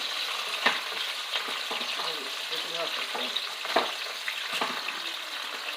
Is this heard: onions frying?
yes